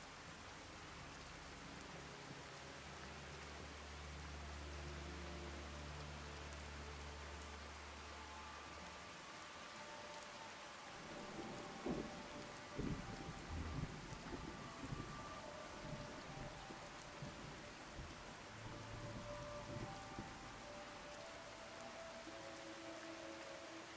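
Steady rain falling outside a hospital building on a gloomy day in the video game Fallout 4, a soft continuous hiss with a low rumble early on and scattered heavier patter in the middle, fairly quiet and unbroken by speech.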